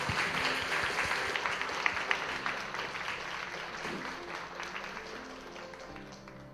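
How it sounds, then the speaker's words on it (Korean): A church congregation at a festival worship service claps in blessing after a prayer, a soft, dense patter of many hands that fades gradually over several seconds. "우리 박수로 축복하겠습니다."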